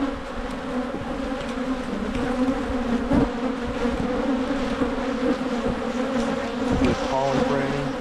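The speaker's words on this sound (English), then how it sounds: "I know you've got bees all over." Dense, continuous buzzing of many bees fills the air, steady and close throughout, with no voices.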